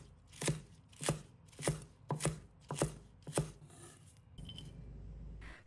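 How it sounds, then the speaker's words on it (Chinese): Garlic leaves chopped into small pieces with a knife on a board, six crisp, evenly spaced strokes up close, then a pause with faint low rumble and no talk. "蒜叶切成小粒。"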